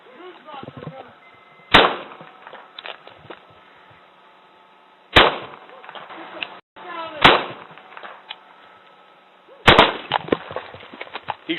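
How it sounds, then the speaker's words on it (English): Several loud, sharp gunshots crack out during a police officer-involved shooting in Pahrump, spaced irregularly across the scene, with tense voices and radio chatter between them. "He's shooting at me."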